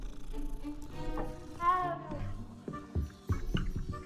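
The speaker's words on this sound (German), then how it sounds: "Erstmal schwarze Katze streicheln." A black cat in the video game Hogwarts Legacy is petted, giving soft meows and faint cat sounds over quiet game ambience, with a few light taps.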